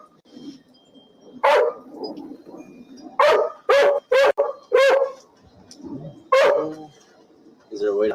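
Several dogs bark in loud, sharp bursts, two or three quick barks at a time with short gaps between, close by, while people talk in between.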